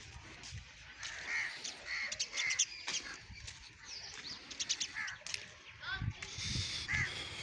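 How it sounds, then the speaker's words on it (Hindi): Crows cawing and small birds calling around a village in the early morning, scattered calls near and far over a windy outdoor background, with people talking at times. "चिड़िया जा रही है।"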